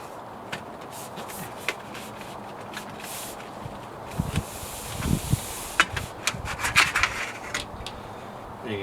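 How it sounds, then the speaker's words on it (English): Aluminum cladding coated with contact cement is rubbed against a wooden door brickmold board, giving soft, close, uneven scraping and rubbing strokes with a few sharper knocks. "I'm just going to rub it up against the board here so that it's on the wood"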